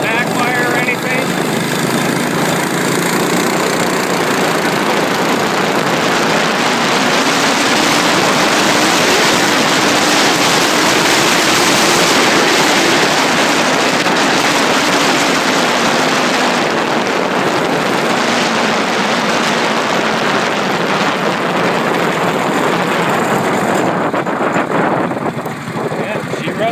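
A Predator 212 engine on a mini chopper runs steadily for the whole stretch, a loud, continuous, rough drone heard up close, with a person talking over it.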